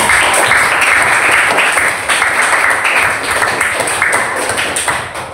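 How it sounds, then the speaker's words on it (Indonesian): Schoolchildren clapping together in a classroom, loud rhythmic applause with a brief dip partway through, continuing in bursts before fading slightly at the end. "Silakan berikan tepuk tangan yang ketiga"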